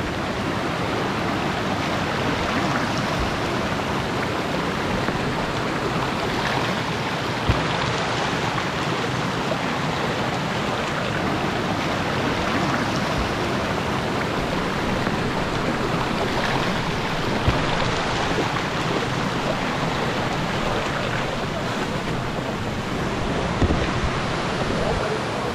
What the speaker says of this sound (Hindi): और नदी का ये चहचहाहट मन को आनंदित कर रहा है